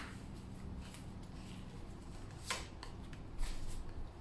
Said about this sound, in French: on va recouvrir les cartes du haut aussi